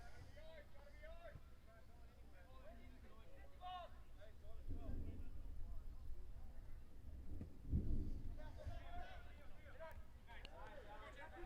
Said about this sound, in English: Much louder rumble of thunder now.